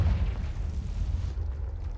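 The Confringo fire spell blasts in Hogwarts Legacy, a deep, rumbling boom up close that rolls on for about a second and a half before fading.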